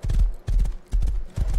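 A horse gallops in the survival game Rust, its hooves pounding in a steady, heavy rhythm of four close bursts, loud and near.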